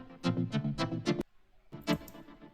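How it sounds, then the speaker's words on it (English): A stereo-widened, stuttered synth part from an electronic pop track, with choppy rhythmic bursts of notes, a brief gap, then another stuttering phrase, close and moderately loud. "So this is stereo widened and stuttered"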